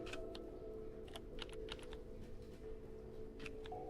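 Keyboard typing clicks in the Kathy Rain 2 video game: a scattered run of light taps, some paired, over a steady low hum and music bed, with no talking.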